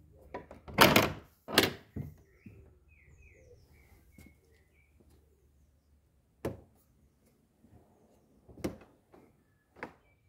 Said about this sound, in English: This is an old door.